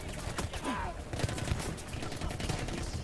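Gunfire in the video game Battlefield 1 rattles in a dense, continuous fusillade with scattered sharp shots amid a constant battle din, played loud and steady throughout.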